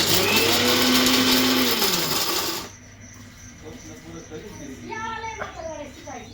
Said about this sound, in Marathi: मिक्सर आणि बंद करते लगेच चालू करते